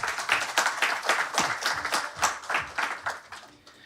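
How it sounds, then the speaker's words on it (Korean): Audience applause at a Korean democracy global forum, a dense burst of many hands clapping close and loud, fading toward the end with no voices. "다시 한번 뜨거운 박수 부탁드리겠습니다."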